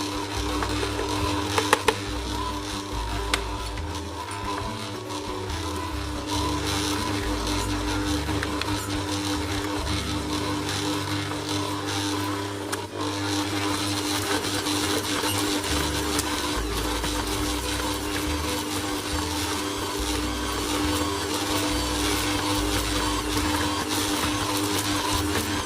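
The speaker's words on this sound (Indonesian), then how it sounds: "Kita mixer hingga adonannya kalis." An electric mixer kneads soft milk bread dough with a continuous, steady motor whir and a low churning drone that holds evenly throughout, with no talking.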